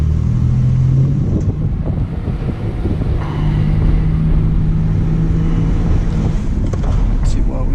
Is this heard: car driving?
yes